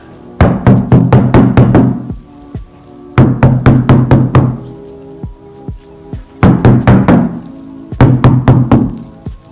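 Four bursts of rapid knocking on a car body panel, one side treated with sound deadening and one not, each a quick run of dull, resonant taps, separated by short pauses.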